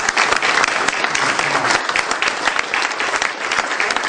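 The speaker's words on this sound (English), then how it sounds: "a round of applause" A breakfast audience gives a round of applause at a school district foundation event, a full, even burst of clapping throughout.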